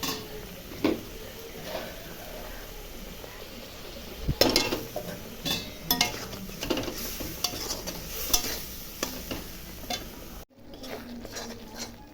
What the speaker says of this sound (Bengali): এখন ভালো করে মশলার সঙ্গে এখানে কষাবো।